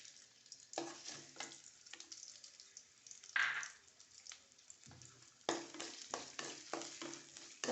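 Grated coconut sizzling and crackling in hot coconut oil, with intermittent bursts of frying hiss and stirring scrapes, close and moderately quiet.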